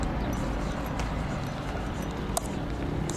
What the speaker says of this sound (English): This is the horse car.